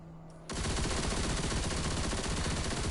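Rapid sustained automatic gunfire from a heavily modded weapon in Destiny 2 bursts in abruptly after a quiet moment and continues as a dense, loud, unbroken stream of shots.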